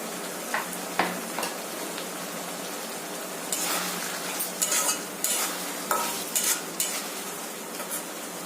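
Paneer coated in cornflour and Kashmiri chilli powder is stirred in a frying pan for chilli paneer, a steady sizzle under repeated scraping clinks of a spatula against the pan, close and without talk.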